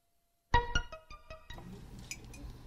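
A mobile phone's text message alert rings out as a short run of bright chiming notes after silence, followed by soft household background noise.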